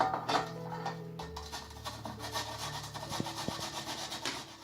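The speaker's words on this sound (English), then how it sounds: "And grate the onion first." An onion is grated by hand for kimchi, giving a soft, rhythmic scraping and rubbing close by, repeated strokes over a faint background hum.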